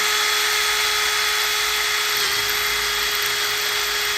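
A power drill bores steadily through a gate while fitting a new lock, giving a loud, unbroken high whine with a constant motor tone and grinding underneath.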